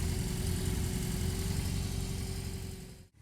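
A BMW R18 motorcycle with a loud aftermarket exhaust rumbles deep and steady at a constant engine note, close and strong, then the sound cuts away abruptly at the end.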